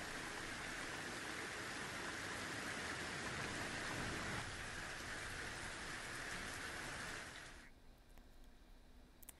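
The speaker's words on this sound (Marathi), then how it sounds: "दोन तास तब्बल मुसळधार पाऊस पडला" Heavy monsoon rain in Maharashtra pours in a dense, loud, continuous roar, then abruptly drops to a quieter patter near the end.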